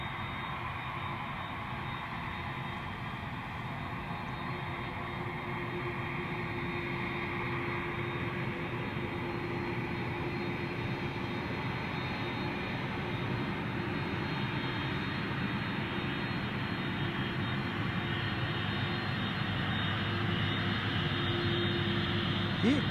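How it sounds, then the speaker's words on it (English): Old jet aircraft engines roaring steadily at the Memphis cargo hub before dawn, a broad continuous drone that slowly swells louder over about twenty seconds, heard from a distance with no talk over it. "Listen to those old engines."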